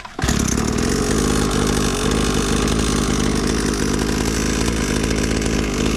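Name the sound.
SYX MOTO kids 50cc dirt bike engine starting and running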